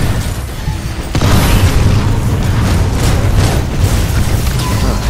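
A titan self-destruct explosion in the Titanfall 2 video game, with an Ion class titan in play: a sudden loud boom about a second in, followed by a sustained roaring rumble and debris noise that stays loud throughout.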